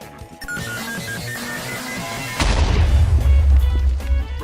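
Video game music plays, then a loud in-game bomb explosion bursts in partway through and leaves a heavy, sustained low rumble.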